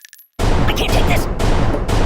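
Firearms fire in the mobile game Kick the Buddy. A dense, loud burst of rapid shots erupts suddenly after a moment of quiet and continues without a break, with sharp impact sounds mixed in.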